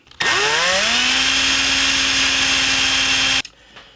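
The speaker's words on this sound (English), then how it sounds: "we've got these drilled out a little bit deeper" Small power drill spinning up with a rising whine and then holding a loud, steady high-pitched drone for about three seconds while it drills into a cheap die-cast metal Hot Wheels Beach Bomb VW bus, then cutting off abruptly.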